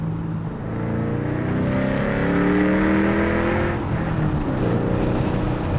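A Ford car downshifts and accelerates onto a highway on-ramp, the engine note climbing in pitch through a sustained, close rev before easing and building again, heard alone without talk.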